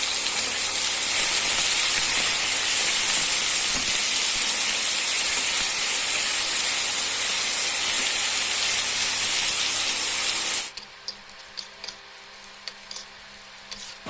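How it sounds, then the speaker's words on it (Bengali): Two sliced onions with a little sugar frying in hot oil toward light brown, a loud, steady hissing sizzle that runs unbroken for about ten seconds before cutting off to near quiet with a few faint ticks. "পেঁয়াজ লাইট ব্রাউন করে ভেজে নিয়ে"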